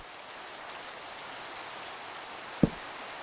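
Steady rain in Minecraft, a soft continuous hiss of falling drops throughout, with one brief low thump near the end.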